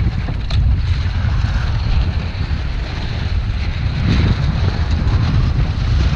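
Steady roaring buffet of wind striking a GoPro microphone aboard a sailboat on a gusty day, loud and continuous throughout with a deep rumbling low end and no voices.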